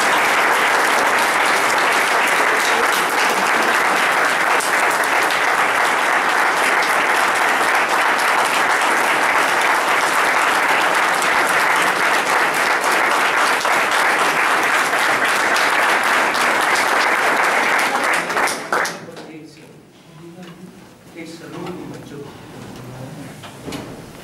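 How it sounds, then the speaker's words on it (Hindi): A lecture audience applauds loudly and continuously for nearly twenty seconds in a thick, dense wash of clapping, then it drops off abruptly, leaving quieter room sounds and faint scattered noise. "तालियां।"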